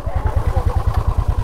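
Several motorcycles idle and pulse with a steady low engine throb close by as a group of bikes readies to leave, with faint clatter and no talk.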